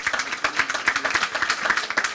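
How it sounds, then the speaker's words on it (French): An audience at a presentation on new products and future industries applauds steadily, many hands clapping in a dense, close wash with no pauses. "Je vais vous demander de l'applaudir parce que cet homme est assez exceptionnel"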